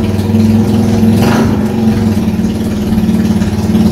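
A Motomel Skua 250 motorcycle engine runs loud and close, a steady throbbing idle with a brief swell of revving partway through, carrying on without any talking over it.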